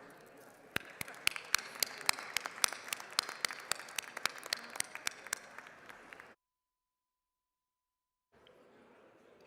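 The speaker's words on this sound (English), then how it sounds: "please join me in a round of applause" In a legislative House chamber, members give a round of applause: sharp individual claps in a steady patter for about six seconds, then silence, then a faint room murmur.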